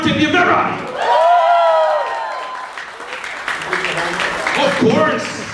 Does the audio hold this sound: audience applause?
yes